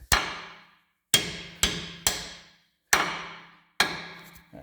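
Six sharp metallic hammer strikes ring out at uneven intervals, tapping square-headed bolts into an Allis Chalmers 200 tractor front axle, each decaying before the next, close and clear with no speech.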